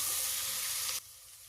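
Soaked green peas frying in a pan at a village kitchen, a steady close sizzle that drops abruptly to a softer hiss partway through, with no talking.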